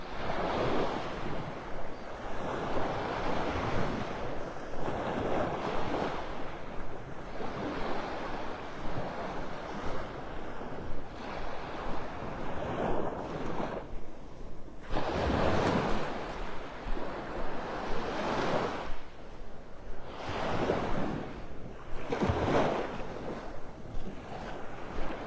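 Gulf waves breaking on Vanderbilt Beach in North Naples, Florida, a continuous wash of surf with distinct swells building and crashing every few seconds, plus gusting wind buffeting the microphone, no voices.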